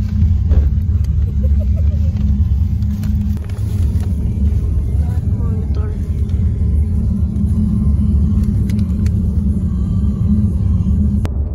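A Megane car's engine rumbles steadily and deeply at close range throughout, while people chat and exclaim over it.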